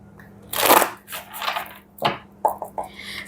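Tarot cards shuffled in bursts, crisp riffling swishes and slaps coming in uneven clusters close by, with a faint bit of background noise.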